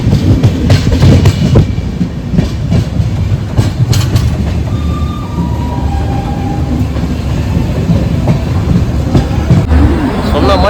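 A double-decker train pulls away from a station with a loud rumble, wheel clatter and brief squeals, while people talk nearby.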